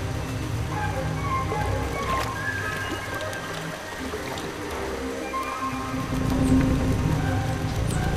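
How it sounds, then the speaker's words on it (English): Heavy rain pours down steadily in a tropical forest where hummingbirds feed, a dense, continuous hiss that swells louder near the end, with no voices. "Even during a downpour,"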